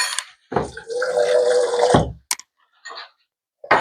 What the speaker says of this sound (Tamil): இதில் வந்து அடுத்தது வந்து கொஞ்சமாக தண்ணி சேர்க்க போகிறேன்